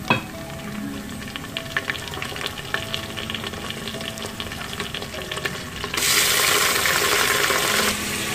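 Mutton hits browned onions frying in a pan, giving a busy crackling sizzle with scattered clinks and stirring, then the hiss swells noticeably louder near the end.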